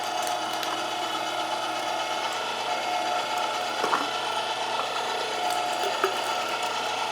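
Foot-pedal meat grinder working chilled pork through its hopper into a coarse grind for Irish-style sausage, a steady close mechanical whirring and ratcheting with occasional sharper clicks and knocks, continuous throughout with no talking.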